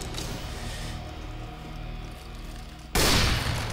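Gunfire in CS:GO plays as a dense, loud burst of shots that erupts suddenly near the end, following quieter game ambience and distant rattling, with no voices.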